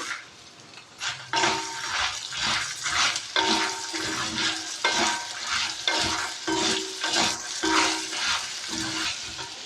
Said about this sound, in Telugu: ఇవన్నీ కూడా లో ఫ్లేమ్లోనే ఫ్రై చేసుకోవాలన్నమాట